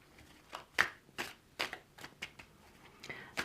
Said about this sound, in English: whilst I'm shuffling